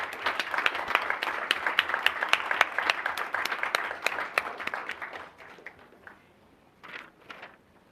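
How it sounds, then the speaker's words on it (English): At a school governing board meeting, a room gives a round of applause for the parents of student performers, with crisp, close individual claps that thin out and fade, then a brief last flurry before quiet. "Would the parents of these fine performers please stand or remain standing so we can give you a round of applause"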